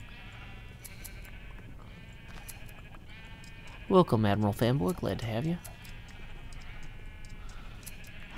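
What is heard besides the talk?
sheep bleating in Minecraft video game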